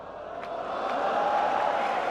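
Crowd at a pool championship quarter-final in Hanoi cheering and swelling steadily over a couple of seconds, a broad roar without a commentator talking over it.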